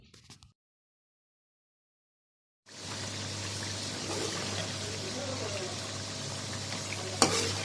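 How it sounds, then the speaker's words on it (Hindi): Chicken seasoned with black pepper and salt frying in a pan, a steady crackling sizzle starting abruptly after a short silence, with a sharp clink of a utensil near the end. "इन सब चीज़ों को हम अच्छी तरह से मिक्स करेंगे और इनको भून लेंगे।"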